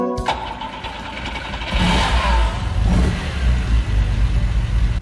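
A Lancia Stratos rally car engine in Gran Turismo 6 starts, then revs hard and roars at high volume, rising and falling as it accelerates.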